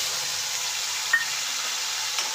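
Chili and tomato hit frying cumin in a pan, giving a steady, close hiss of sizzling oil with a couple of faint clinks from stirring.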